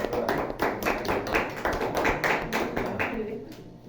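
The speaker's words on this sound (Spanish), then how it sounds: "Un aplauso para su compañera" A short round of applause from a small group, steady clapping that fades out toward the end.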